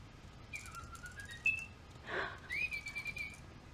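A child whistles in imitation of birdsong, thin gliding tweets and warbles in short phrases, close and fairly soft, with a brief breathy sound in between.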